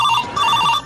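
A telephone rings during a call, a short loud electronic trill that repeats in quick pulses, heard alone.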